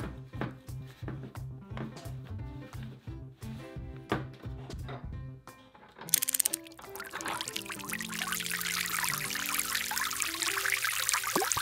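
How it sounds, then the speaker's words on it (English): Water from a tap pours into a bubble bath, a steady close rushing and splashing that fills the latter half, preceded by a run of rhythmic tapping and soft thuds with no talk. "Now let me help you get your bubble bath going."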